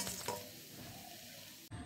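Semolina chom chom sweets fry in hot oil, a quiet, steady sizzle with faint stirring that runs without a break before cutting off abruptly near the end.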